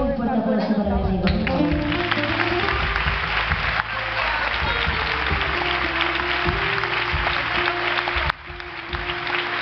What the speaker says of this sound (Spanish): Quiero ver un fuerte aplauso para mi amigo.